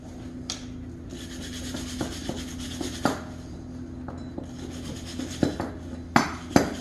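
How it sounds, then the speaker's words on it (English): Wiping and scrubbing on the outer surface of a wheel bearing during ball joint and bearing work on a Jeep Grand Cherokee, with steady close rubbing strokes and a few sharp knocks and clinks of metal. "we're going to clean the outside of the bearing really well"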